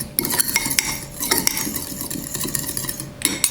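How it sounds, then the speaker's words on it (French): A fork rapidly stirring cream and egg yolk together, giving close, steady, irregular metallic clinks and scrapes against the dish, with no voices. "Donc on mélange bien."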